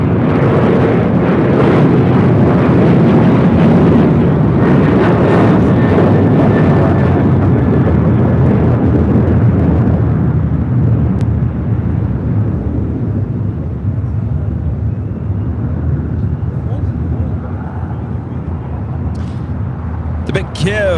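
A jet airliner departing LAX for Burbank roars loud and close with a broad, rumbling engine noise that slowly fades over about twenty seconds, with a voice speaking over it.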